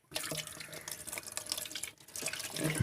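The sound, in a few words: water running from a tap during an aquarium water change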